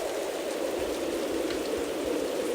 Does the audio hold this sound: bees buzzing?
no